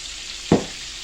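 Perch fish fry in a pan with a soft, steady sizzle. A single brief clatter, like the fish being stirred or shifted, rises suddenly midway and fades back into the hiss, with no talking.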